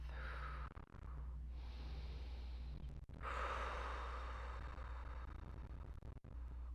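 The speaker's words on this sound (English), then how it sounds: "Take a deep and cleansing breath." A single deep, cleansing breath taken during a guided mobility stretch, with a long slow inhale and exhale up close over a steady low hum.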